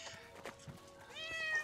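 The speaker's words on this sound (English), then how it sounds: "this is a tabby cat that is one of my pets" A pet tabby cat in the video game Portal Knights meows, a couple of short close meows followed by a longer rising cry, heard alone and fairly quiet.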